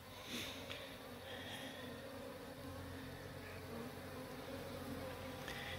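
A honeybee colony hums at its hive box, a steady, dense buzz that fills the whole stretch, with a few individual bees droning close by.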